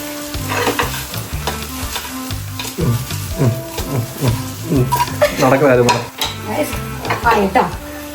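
Spicy chicken fry sizzles loudly in a pan while being stirred, with repeated scraping and clinking strokes against the pan over a constant hiss, accompanied by background music.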